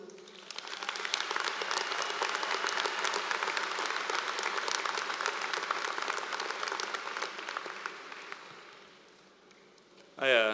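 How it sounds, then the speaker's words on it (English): A commencement crowd applauds the student speaker with sustained, dense clapping that fades toward the end, followed by a voice speaking briefly. "I appreciate the applause."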